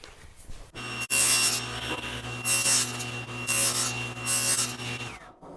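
A table saw cutting acrylic: a steady motor hum runs throughout while loud, harsh cutting bursts rise and fall about four times as the sheet feeds through, then the blade winds down.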